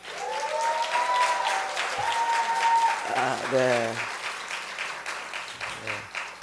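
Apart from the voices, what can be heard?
church congregation applause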